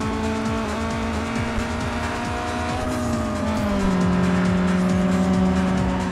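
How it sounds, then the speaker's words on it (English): A race car in a GameCube racing game brakes hard, its engine drone falling in pitch under a long, loud tire squeal, with no one speaking. "But I can use the brakes."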